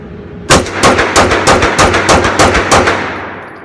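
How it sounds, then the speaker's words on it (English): A Springfield Armory Range Officer 9mm 1911 pistol fired one-handed, eight rapid shots with roughly even spacing, each loud sharp crack ringing briefly outdoors, with no talking. "Next is eight rounds rapid fire, strong hand only."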